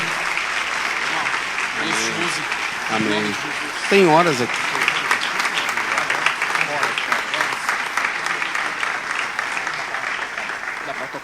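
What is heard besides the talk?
congregation applauding in church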